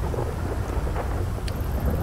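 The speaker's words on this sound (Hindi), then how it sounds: "इतनी बारिश क्यों हो रही है?" Steady rain hiss with a low thunder rumble in GTA V, the storm washing evenly across the whole stretch with no voices over it.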